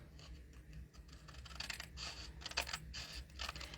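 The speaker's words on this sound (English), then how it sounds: "take our snips and cut around the edge" Snips cut around the edge of a handmade soft-pastel card in a series of close, crisp snipping and paper-rustling bursts that grow busier midway, quiet and with no talk.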